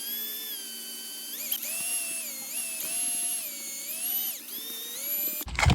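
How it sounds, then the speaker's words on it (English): A power screwdriver whines as it backs screws out of an RC car's gearbox, its pitch rising and dipping as each screw turns, steady and close, with a short clatter at the end. "there's a couple of screws on each here to remove that gearbox."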